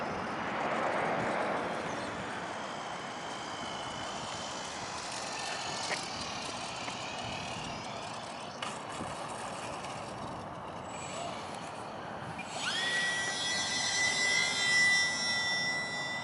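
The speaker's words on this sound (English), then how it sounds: "This is a cool plane." A small UMX Timber model trainer airplane drones steadily through the air, close and continuous. Its engine whine climbs in pitch near the end.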